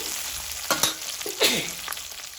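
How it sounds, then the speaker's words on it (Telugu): Potato pieces frying with onions in a pan as they are stirred, a steady bright sizzle broken by a few scraping strokes of the spoon, close and fairly loud with no talking. "ఈ ఆలుగడ్డ ముక్కలు కూడా వేసుకోవాలి"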